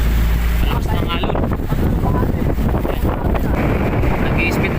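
Strong wind roars across a fishing boat at sea off Panukulan, with heavy buffeting on the microphone and rough water noise, loud and continuous throughout.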